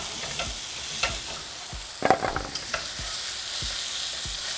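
Chorizo sausage frying in a pan while a spatula breaks it up, with a steady sizzle under repeated scraping taps and a short cluster of louder knocks midway.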